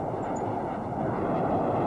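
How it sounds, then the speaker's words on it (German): An airplane passes in the video game Generation Zero, a brief, loud, steady roaring drone of engine noise with no gaps. "Da fliegt ein Flugzeug!"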